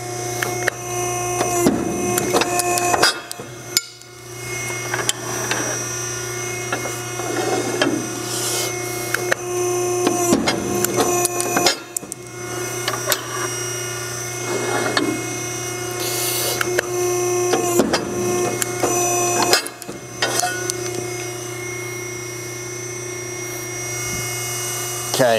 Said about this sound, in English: I removed the front of the table, as you can see, so I can punch angle on this machine.